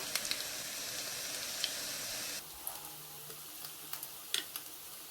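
Chicken breast and lotus root nuggets pan-frying, a steady sizzle for the first half that drops to a quieter crackle with scattered ticks and clinks as the pieces are turned, close up.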